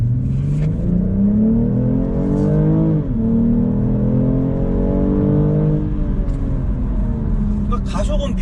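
A BMW M240i with all-wheel drive accelerating hard, its engine note climbing loudly and steadily, dipping briefly at two gear changes before rising again, heard continuously from inside the car.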